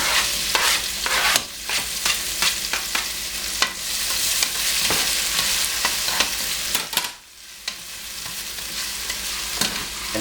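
Garlic and onions sauteing in olive oil in a pan over low heat, a steady close sizzle with repeated stirring clatter and scrapes throughout, briefly dipping quiet near the end.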